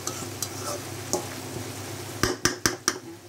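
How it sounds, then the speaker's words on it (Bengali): Taro stolons cooking with shrimp are stirred in a pan with a utensil under a low sizzle, and a quick run of sharp scraping clacks near the end. "এখন আবার লতিটা নাড়া দেওয়ার জন্য চলে আসছি"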